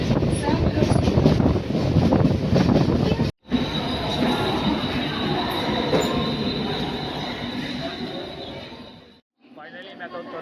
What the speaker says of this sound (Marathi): सध्या आपली ट्रेन पण आलेली आहे